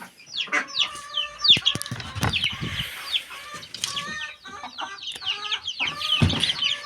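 Chickens and a rooster cluck and squawk close by in a backyard coop, a busy overlapping chatter of short calls throughout, with occasional wing flaps.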